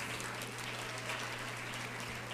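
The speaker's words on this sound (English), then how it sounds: "So give yourselves a round of applause." Applause from a convention audience of school-based health care workers, a steady dense patter of clapping held at moderate distance with a low steady hum beneath, no voices over it.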